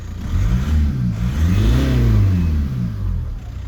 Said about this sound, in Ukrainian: Мотор працює рівно, проблем з мотором немає.